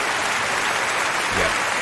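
Dense, steady hand-clap applause from a group, loud and continuous with no pauses, filling the space evenly.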